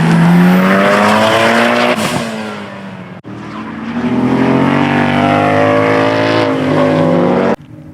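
Loud, close Formula K racing kart engines whine and rise in pitch as they pass during a time attack championship, with a brief drop midway and a sudden cutoff near the end.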